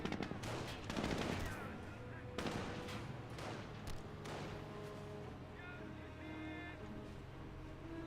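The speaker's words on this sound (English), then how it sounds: "Taking rifle fire. 30 cal set them up, firing a volley there onto the Panzer Grenadiers." Company of Heroes World War II battle with .30 cal machine gun and rifle fire: rattling bursts and scattered shots early on, fading into lighter distant fire under a quiet game soundscape with a voice speaking.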